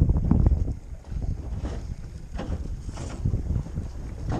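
Strong wind blows against a small boat near a marina, a rough, gusting rumble of wind buffeting the microphone with faint water sloshing underneath, loud and continuous.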